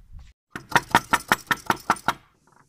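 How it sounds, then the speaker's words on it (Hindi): A metal door latch is rattled against a door in about eight quick, loud, evenly spaced knocks close by, with no talk. "दरवाज़ा खड़काते हैं क्या करते हैं"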